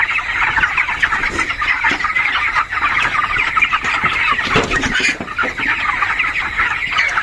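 Several chickens on a poultry farm cluck continuously and close by, a busy layered chorus with occasional louder squawks and no talk.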